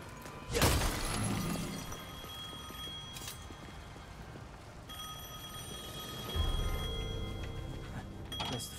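A telephone rings in the game Devil May Cry 5, repeated bright bell tones over a steady background, framed by a couple of heavy impacts, with no speech.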